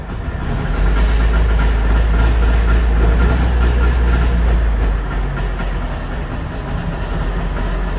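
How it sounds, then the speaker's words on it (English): A 1963 Trabant 600 two-stroke engine fires up on choke and runs with a loud, steady low rumble and rattle, close by, easing slightly in level partway through and settling into an even idle. "it's a noisy old thing, and it's 2-stroke, horrible stuff comes out of it"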